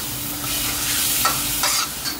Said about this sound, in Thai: เดี๋ยวเราจะผัดหมูสับให้น้ำเขาแห้งเล็กน้อยนะฮะ